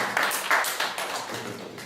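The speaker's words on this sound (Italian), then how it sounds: "Facciamo un applauso" An audience at a music show gives a brief round of moderate applause, scattered claps blending into a soft patter that fades slightly over two seconds.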